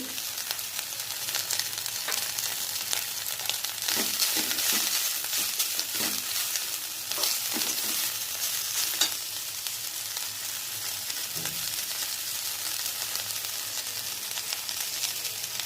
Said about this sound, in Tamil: கொத்தமல்லி வதங்கினோடனே பூண்டு, இஞ்சி எல்லாம் போடுறோம்